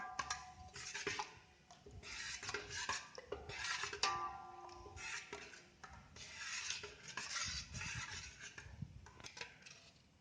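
A homemade herbal bath soap mixture of oils being stirred by hand in a bowl, giving continuous scraping, rubbing and light clinking strokes in an uneven rhythm, close and moderately quiet, with no voices.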